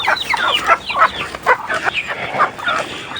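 Rhode Island Red chickens waiting to be fed at breakfast time keep up close, busy clucking and squawking, overlapping calls from several birds at once.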